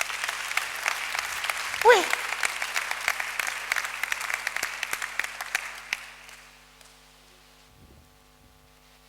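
A church congregation applauds to acclaim their king during a solemn convocation, with dense sustained clapping and a shout near the start. The applause fades out after about six seconds, leaving near silence and a brief voice.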